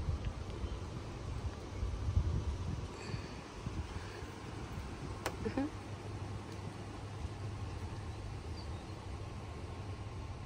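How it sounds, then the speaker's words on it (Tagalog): Gusty wind blows outdoors with fluttering buffets against the microphone, a low rushing swell, faint and uneven, with quiet scattered background sounds. "Naririnig niyo, mahangin."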